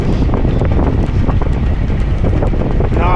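Strong headwind buffets the microphone during a cycling climb in New South Wales, a loud, continuous roaring rumble with gusty surges throughout, no speech over it.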